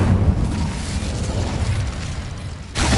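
A fire spell cast in Hogwarts Legacy, a loud sustained whooshing roar of flame with a low rumbling body, continuous for nearly three seconds, then a fresh burst flaring up at the end.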